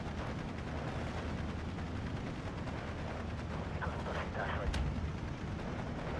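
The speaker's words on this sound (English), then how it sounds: "Another heavy machine gun." Heavy machine gun fire in the Steel Division 2 war game, a steady dense rattle of shots under continuous battle noise with distant artillery booms, loud throughout.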